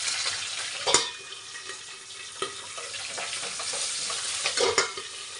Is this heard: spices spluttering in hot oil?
yes